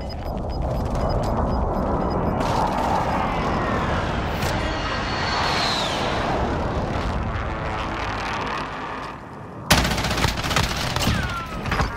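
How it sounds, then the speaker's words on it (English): An enemy precision airstrike from Call of Duty: Modern Warfare brings a dense rumble of explosions and gunfire that builds over a long stretch, then a sharp loud impact hits near the end. "Enemy precision airstrike."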